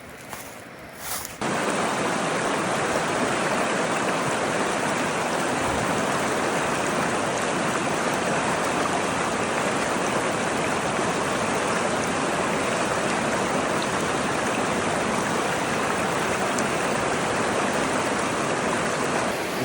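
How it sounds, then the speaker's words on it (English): A creek rushes steadily, heard from someone standing in the middle of the cold water on a Georgia trail, a loud continuous wash of flowing water that starts abruptly after a brief quieter moment and holds unbroken. "Standing down here right in the middle of this creek"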